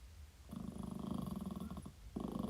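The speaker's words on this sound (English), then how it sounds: "you can hear Libby growling" Libby the dog growls in a low, continuous rumble that is fairly faint. It breaks off briefly, then starts up again.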